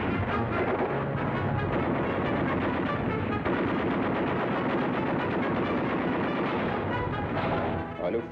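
Relentless, dense machine gun fire during the Omaha Beach landing, rapid overlapping bursts with rumbling blasts, loud and continuous throughout with no voices.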